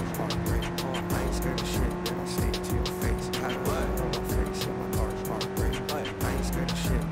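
A car in the game Cyberpunk 2077 drives steadily with a constant engine drone and brief tire squeals, while people talk over it throughout.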